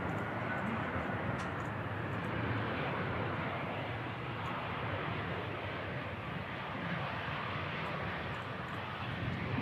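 An EasyJet airliner arriving from Lisbon at Manchester Airport on a windy day gives off a broad, steady engine roar mixed with wind rush, distant and fairly faint, with no talk heard.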